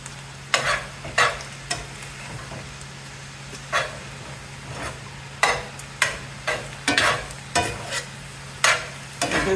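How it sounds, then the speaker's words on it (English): Poke sallet greens sizzle in a hot pan while stir-fried, with bursts of scraping and frying at irregular intervals over a low steady hum. "At this point, you're basically stir frying it."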